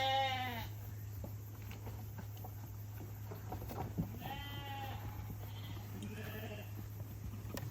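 Lambs bleat several times on a sheep farm, some calls near and some farther off, over a steady low mechanical hum and faint shuffling.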